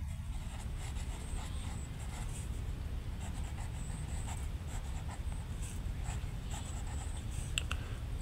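A pen scratches across paper in steady, close strokes with short pauses, under low room hum and no speech.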